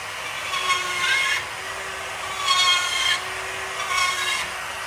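Drywall panel being notched with a hand saw, three rhythmic rasping sawing bursts at a moderate, close level against a steady background hum, no speech.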